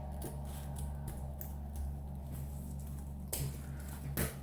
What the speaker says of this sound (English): And you're going to cut from the folded side.